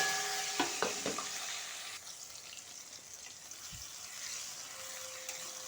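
Chopped tomato and onion frying together in hot oil for a Bengali chicken and potato curry, a soft steady sizzle with a few light clinks of stirring early on.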